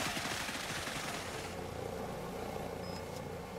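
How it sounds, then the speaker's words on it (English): A military helicopter arrives in the shooter game Cepheus Protocol, its loud, dense engine and rotor roar pulsing low at first, then settling into a steady, broad wash of noise. "Chopper is inbound, and we can start pushing forward a bit."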